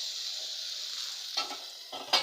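Tomatoes hit hot oil with a steady hissing sizzle, joined near the end by a couple of short stirring scrapes that briefly get louder.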